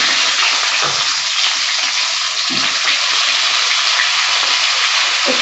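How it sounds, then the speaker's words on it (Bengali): Pointed gourd (potol) frying in hot oil, a dense continuous hiss and sizzle, loud and close, with faint clinks of a utensil underneath. "আমি এবার পটলগুলো ওই তেলে ভেজে নিচ্ছি।"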